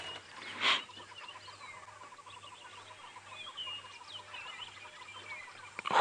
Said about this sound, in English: So we've got some Egyptian geese.